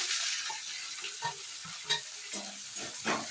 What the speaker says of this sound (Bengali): এবার ক্যাপসিকাম আর পেঁয়াজটা দিয়ে দিচ্ছি